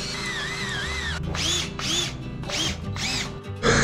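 Power tool cutting a hole through a camper wall, close and loud, with a steady whine at first, then four repeated rising and falling surges as the blade bites into the wall, ending in a harsh burst.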